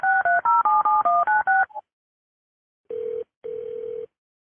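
Rapid run of touch-tone DTMF dialing beeps on an emergency dispatch phone line while a call is transferred, followed by two longer steady ringback tones after a pause; no voices.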